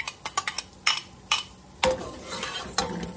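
Chopped onion, half of one, hitting melted butter in a pan for broccoli cheese soup, with clinks and scrapes of a utensil stirring, then a louder burst of sizzling that keeps crackling close by.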